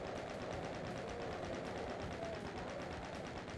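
A minigun fires in the Doom video game, a rapid, evenly spaced stream of gunshots rattling continuously at steady volume over a low background rumble.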